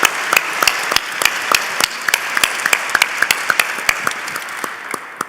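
Sustained audience applause for the teams at the AEC 2024 Ergo Cup awards, a dense wash of clapping with distinct individual claps standing out throughout.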